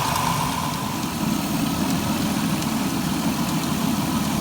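A Dodge Caravan engine idles steadily with coolant circulating after rear coolant lines were bypassed, a close, even rumble with slight vibration and no talking.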